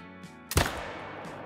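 One sharp rifle shot from theHunter Call of the Wild, aimed at a Mountain Tahr, cracks loudly over a sustained musical tone and leaves a short decaying echo.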